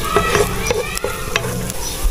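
Garlic frying in a pan for biringhi sizzles loudly and close, with repeated utensil stirs and scrapes making sharp clicks over the steady hiss.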